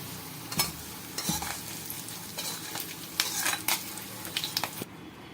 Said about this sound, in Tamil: ஆஃப் பண்ணிவிட்டு நம்ம இந்த கடாயில் இருக்க வெங்காயத்தை மீன் குழம்புல கொட்டிடலாம்